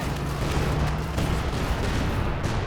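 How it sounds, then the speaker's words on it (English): Infiltration grenades burst amid a Company of Heroes 2 battle, a dense roar of explosions and artillery-like gunfire, loud and continuous across the short stretch. "Infiltration grenades coming in here."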